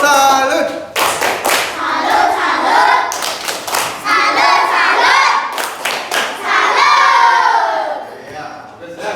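Loud classroom applause for a student named Cynthia: dense, steady clapping from many hands with children shouting and cheering over it, rising in bursts and fading near the end.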